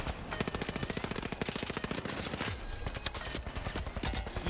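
Rapid automatic gunfire from The Finals rattles in dense bursts, with quick repeated shots across the whole stretch, faint and somewhat distant in the mix.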